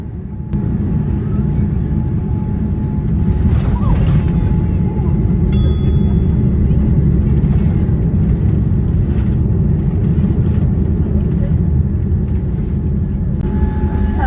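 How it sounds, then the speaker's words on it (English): United Airlines Boeing 787-9 landing at San Francisco, heard from inside the cabin: a loud, steady low roar of engines and airflow runs throughout, with a single cabin chime partway through. "With a smooth landing and early arrival here into San Francisco"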